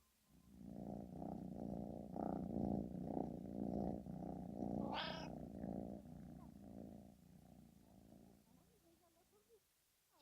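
A domestic cat purrs steadily up close, a low rumbling throb that pulses with each breath for several seconds before fading out.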